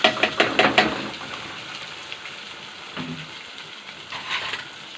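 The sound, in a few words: rice frying in oil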